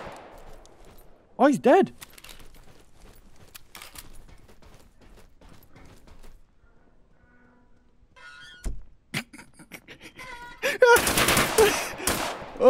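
Gunshots and bursts of fire in the multiplayer shooter Deadside, scattered sharp cracks with a dense loud burst near the end, brief talking in between.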